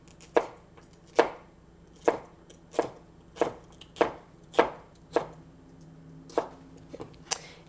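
A kitchen knife slices a bell pepper into strips on a cutting board, about a dozen crisp, close chops landing in a steady, unhurried rhythm with quiet gaps between.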